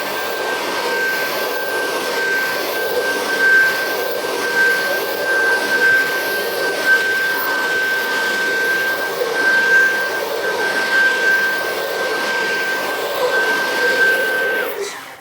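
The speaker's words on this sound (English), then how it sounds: "give it another vacuum" A vacuum cleaner working over a car floor mat gives a loud, steady roaring drone with a thin high whine running through it. The sound is constant and close for about fifteen seconds, with no talking.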